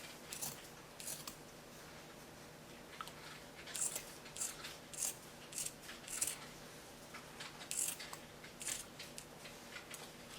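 Scissors snip through folded T-shirt fabric to make yarn, a series of soft, crisp cuts at irregular intervals, close and quiet.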